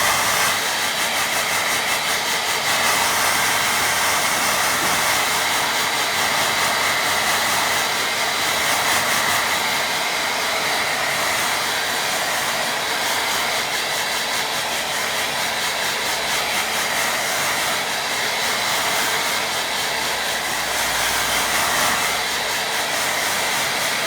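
A hair dryer blows steadily on a watercolour painting, a loud, continuous broadband whoosh that runs close and unbroken from start to finish with no talking over it.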